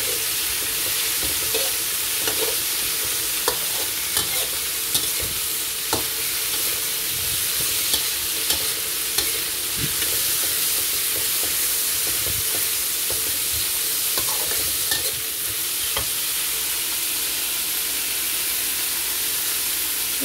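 Wood ear mushrooms stir-fried over a high flame, giving a steady loud sizzle and hiss with scraping stir strokes and clatter recurring throughout, no talking.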